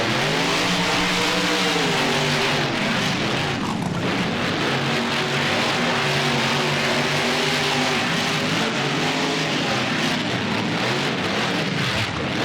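Monster trucks Maximum Destruction and Player 4 race around a fairgrounds track in the BeamNG driving game, their engines roaring loudly and steadily with shifting revs and rising and falling pitch, with a rain-like hiss behind them, and no voices.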